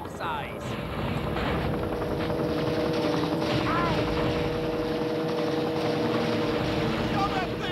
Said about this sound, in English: Oh, now you got that helicopter.